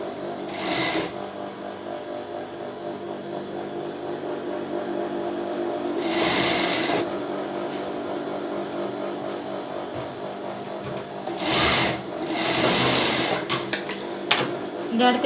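A sewing machine stitches folded bra fabric in short, loud bursts of rapid whirring, with quieter stretches between runs.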